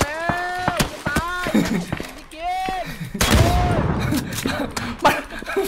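Gunfire in PUBG, scattered sharp shots and cracks going off between and under excited talking, some close and loud, others more distant.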